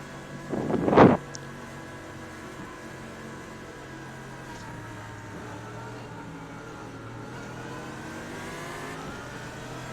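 GT3 race cars in the iRacing game pulling away at a race start at Road America, a brief loud burst of engine noise followed by a long, steady drone of engines climbing in pitch as they accelerate, with no talking.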